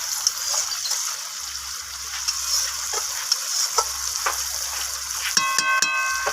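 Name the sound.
stirring fish curry in pan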